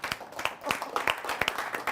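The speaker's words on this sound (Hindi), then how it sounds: "आइए एक बार हम तालियों के साथ स्वागत करते हैं भाई पीके आज़ाद का" Audience applause welcoming the poet PK Azad onto the stage at a Hindi poetry gathering: a steady patter of many hands clapping, fairly close, with a few louder individual claps standing out.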